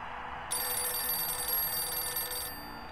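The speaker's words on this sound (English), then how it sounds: "Phone." A landline telephone bell rings in one sustained electronic trill lasting about two seconds, clear and fairly close over a faint room hum, within a point-and-click adventure game.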